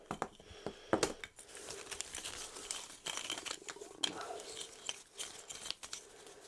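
Cardboard tiles from the Isle of Skye board game are shuffled by hand on a table, giving a close, irregular patter of scraping and clicking with no talk.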